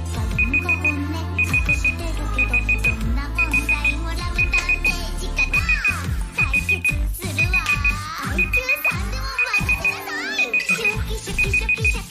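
A timer alarm beeps in a steady, evenly spaced series of short electronic pulses for about twelve seconds, sounding loud and close over busy background game audio and music.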